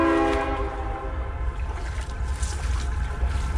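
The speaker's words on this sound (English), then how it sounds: "I hear two different trains honking at each other coming from different directions." Two trains' horns blaring loudly at first from different directions, then fading into a low, continuous rumble with faint distant noise.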